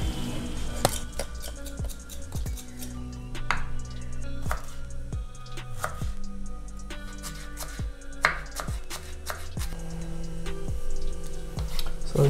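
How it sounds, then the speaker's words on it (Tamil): Ginger being minced finely with a knife on a cutting board in a home kitchen, a steady series of sharp, close chopping taps over soft background music. "இஞ்சியும் ரொம்ப சின்னதாக பொடிசாக நறுக்குங்க."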